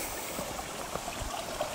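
Steady running water flows along a roadside ditch into a big stone drain under the road, a continuous close trickling rush with no voices.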